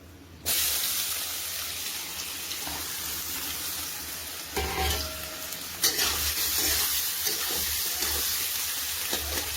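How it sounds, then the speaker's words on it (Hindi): Potatoes frying in mustard oil in a kadhai give a steady, close hiss and sizzle with occasional louder bursts and crackles, and no voices. "फिर हमें अपने आलू को फ्राई करना है, कुछ इस तरह फ्राई करना है हमें अपने आलू को।"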